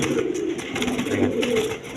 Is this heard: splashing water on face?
no